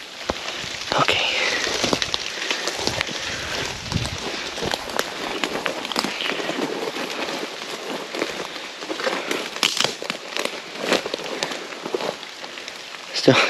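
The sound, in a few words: rain falling in woods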